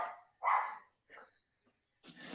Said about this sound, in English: I gotta call Michael Vick to shut up these dogs